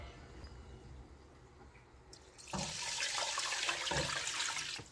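About three and a half cups of water poured into a cooking pot in a home kitchen, a rushing, splashing pour that starts partway through and continues steadily at modest volume, with no talking.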